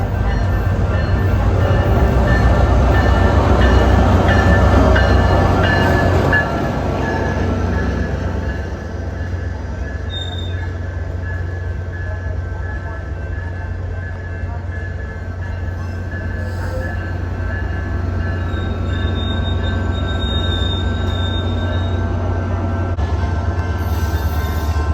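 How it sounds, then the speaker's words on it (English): A northbound SunRail commuter train passes at a station, with a steady loud rolling rumble of wheels on rail for the whole span, heaviest in the first few seconds and easing slightly afterward, along with faint high squeals. "the next train we have is a northbound train just like this one of SunRail"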